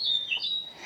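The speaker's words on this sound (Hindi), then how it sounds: "ये आवाज़ है देखो चिड़ियों की, मोर की आवाज़" Birds chirp in the forest along the Neelkanth footpath near Rishikesh, where peacocks live: thin, high, whistling tweets that rise and fall in quick overlapping phrases, moderately close, with no talking.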